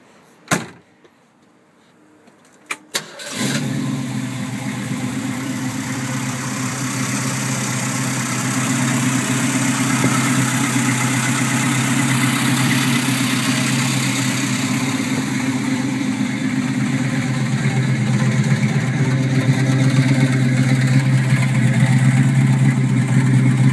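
A 1965 Ford Mustang coupe with a 289 Windsor V8, electronic ignition, Edelbrock manifold and Edelbrock carburetor. A few clicks come first, then the engine cranks and catches, settling into a loud, steady idle that holds to the end.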